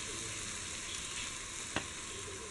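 Ginger garlic paste fries in oil for a Kerala-style chicken curry, giving a faint, even hiss with light stirring and one sharp scrape near the end.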